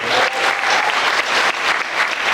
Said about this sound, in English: let's give it another round of applause for the film